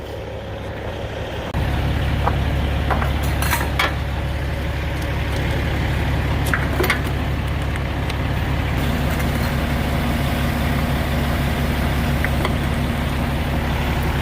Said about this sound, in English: Getting some fuel. Number one fuel.